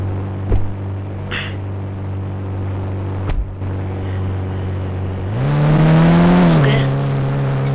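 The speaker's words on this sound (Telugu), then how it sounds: "మనమైతే కారు ఎక్కేసి పోదాం" A car idles with a steady low hum, a few knocks and clicks, then revs up and pulls away about midway, the engine pitch rising loudly before settling into a cruising drone.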